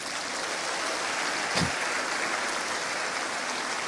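Church congregation applauding during a Spanish-language sermon, a steady diffuse wash of many hands clapping at a distance, sustained evenly throughout with no talking.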